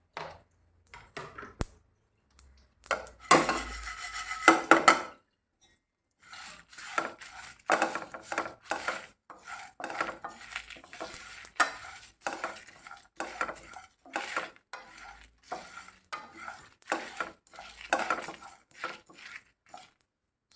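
Whole spices being dry roasted in a pan over a slow flame for Goan chicken xacuti, with repeated scraping and rattling strokes of a spatula, close and intermittent, with brief pauses between bursts.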